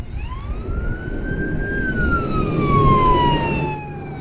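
A loud ambulance siren wails in a long, slowly rising and falling tone, close and continuous over road rumble.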